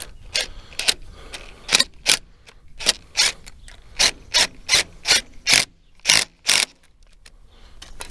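A wrench tightens a hydraulic line fitting on an International Harvester 1086 tractor, giving a series of short, sharp ratcheting clicks in uneven bursts, close and clear with no talking.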